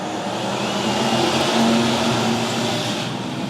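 Hobby stock race cars at a county fair speedway roar off at the green flag, a steady dense engine rumble filling the air from a distance without any voices.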